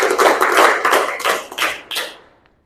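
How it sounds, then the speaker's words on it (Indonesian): A classroom of students clapping a counted rhythm pattern together, several bursts of unison claps in quick groups followed by a couple of sharper single claps before it fades out. "Tepuk 1, tepuk 2, tepuk 3, 2 kali tepuk 3."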